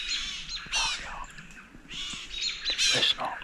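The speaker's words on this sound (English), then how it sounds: "Listen to all the birds." Birds calling at dawn in Alabama woods: crows caw and squawk alongside chirps and tweets, several overlapping calls near and far.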